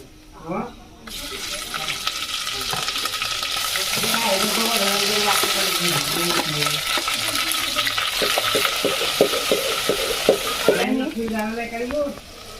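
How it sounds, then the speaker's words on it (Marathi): Onion paste sizzles and fries loudly in a pan over a wood-fired village stove while cooking a spicy country chicken curry, a steady hiss with stirring scrapes throughout and someone talking over part of it. "आता हे कांद्याची पेस्ट मी टाकून घेते"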